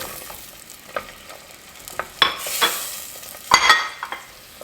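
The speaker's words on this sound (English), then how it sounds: "Now our butter is warm, so we're going to add the onions." Chopped onions tipped into warm melted butter in a soup pot for potato leek soup, giving a few faint scraping stirs and a soft, brief sizzle rising near the middle and end, with no voices.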